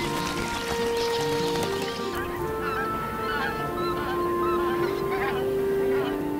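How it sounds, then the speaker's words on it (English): A flock of migrating geese honking continuously, many overlapping calls near and far against a steady outdoor wash of noise, with no talking. "Geese and other migratory birds use the din to keep the flock together over their epic journeys."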